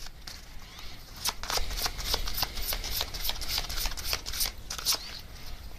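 Tarot message cards being shuffled in a quick run of crisp riffling and flicking, close and fairly soft, with no talking.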